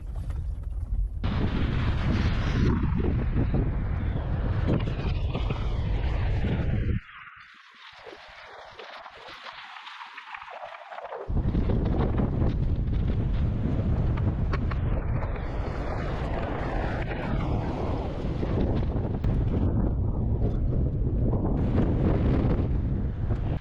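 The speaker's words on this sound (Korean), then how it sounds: "이 골짜기에서 바람이 엄청나게 붑니다" Strong gusting wind roars across the microphone in a Death Valley canyon, loud and continuous with a brief lull in the middle before the buffeting returns at full force.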